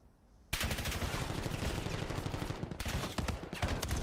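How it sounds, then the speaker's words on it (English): Gunfire erupts in Call of Duty during a competitive league match, rapid rattling automatic bursts starting abruptly after a quiet moment, loud and dense, with brief gaps between volleys. "what a rattler gunfire"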